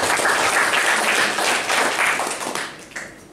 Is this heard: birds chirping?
no